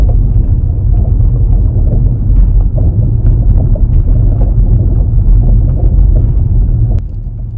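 A car drives along with a steady, loud low rumble of road and engine noise, a faint intermittent rattle from the front suspension sitting within it, and a sharp knock near the end.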